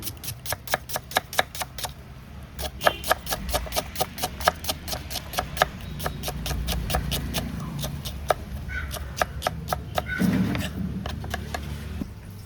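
A knife taps steadily on a cutting board in rapid, even chops, cutting onions into small pieces, close by, with a soft background hum and no speech.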